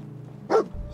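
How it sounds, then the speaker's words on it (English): A dog in the video game Fallout 4 gives a single short bark, close and fairly loud, over a low steady background hum. "Dog, take it easy."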